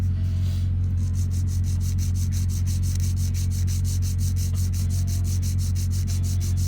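Rapid, regular back-and-forth rasping strokes of a nail file on a fingernail close up, a steady sawing rhythm over a low background hum.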